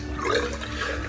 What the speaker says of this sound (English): So what I'm going to do is just wet my hands,